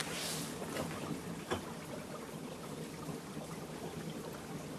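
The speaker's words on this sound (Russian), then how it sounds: "Под ногами здесь тоже какой-то бурный поток," A turbulent stream of water rushes beneath the floor of a tunnel, a steady broadband hiss and burble heard faintly, muffled from below and unbroken throughout.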